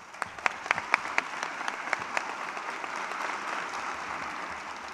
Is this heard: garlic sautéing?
no